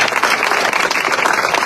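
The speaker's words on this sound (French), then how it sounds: "Alors des applaudissements pour Nathalie de Chaya-Vernet." Audience applause at a press conference with Miss France candidates, a dense, steady wash of many hands clapping close and loud, with no voices over it for the whole short stretch.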